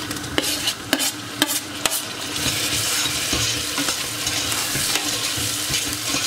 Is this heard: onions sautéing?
yes